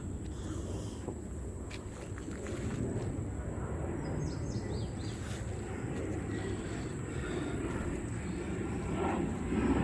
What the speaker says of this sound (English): I'm letting the jet pass.